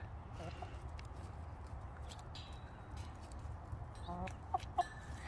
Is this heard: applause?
no